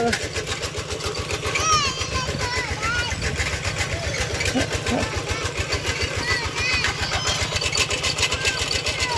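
A tractor engine chugs steadily nearby at a farm rice harvest, with a fast regular thumping pulse throughout, while a person talks over it.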